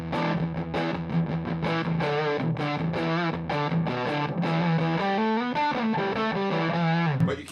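An electric guitar played through a fuzz distortion pedal rings out in a continuous melodic line of sustained, buzzy, saturated notes, loud and close with no talking over it.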